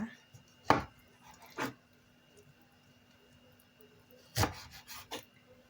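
Grilled eggplant is sliced with a knife on a cutting board, four sharp close chops spaced apart with quiet pauses between them.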